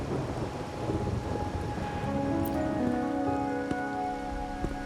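Steady rain patters down during a thunderstorm in the video game Wuthering Waves. A deep rumble of thunder rolls underneath while sustained musical tones rise midway, and a few sharp drips land near the end.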